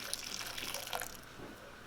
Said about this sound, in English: I'm just going to put a little bit of hot water to get it started so that it can break up a little bit